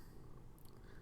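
A pet cat purrs close by, a low continuous rumble running steadily through the whole moment without pause, with no voices present.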